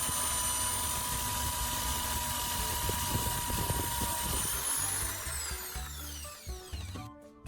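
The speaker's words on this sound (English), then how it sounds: "using a slightly larger drill bit, to enlarge the spark plug hole" A power drill with a larger bit whines steadily at high speed, close and loud, enlarging a hole in a wooden handle, then spins down with a falling pitch as it stops.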